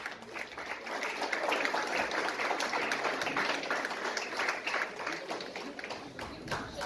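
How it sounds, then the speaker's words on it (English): An audience at a temple benefit gala luncheon gives a steady round of applause, dense overlapping clapping from a crowd heard at moderate distance, sustained throughout. "So how about a round of applause for that?"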